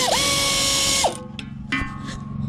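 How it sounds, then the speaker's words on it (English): An air-powered ratchet on a Case IH 596 whirs loudly and briefly with a high-pitched spin, then stops and gives a couple of short clicking bursts nearby. "It's an air-powered ratchet."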